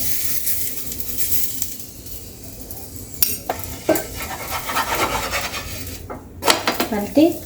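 Ghee spread over a vrat-style sabudana paratha as it is pressed and cooked in a pan, giving soft scraping, rubbing and light metallic clinks in irregular bursts over a low cooking hiss, with no voices.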